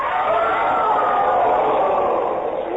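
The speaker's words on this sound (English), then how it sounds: "The crowd has reacted in one great convulsive protest" Crowd at Joan of Arc's burning at the stake crying out in a sustained, dense mass of shouting voices, loud and steady throughout without letup.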